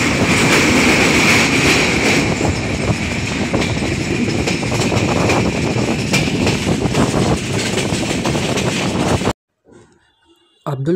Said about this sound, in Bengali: আব্দুলপুর পার করার পর আমাদের ট্রেন দেখিয়ে দিল তার নিজের গতির খেলা।